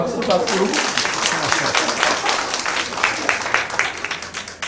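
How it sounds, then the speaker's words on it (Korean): Seminar audience in a Korean church clapping, a loud, dense burst of applause filling the hall, with a voice briefly heard at the start before the clapping carries on steadily. "박수."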